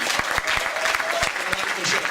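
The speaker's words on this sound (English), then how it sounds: "Please, a round of applause for everyone you've seen." Comedy club audience in Munich clapping loudly and continuously, a thick wash of applause with a few sharper individual claps standing out.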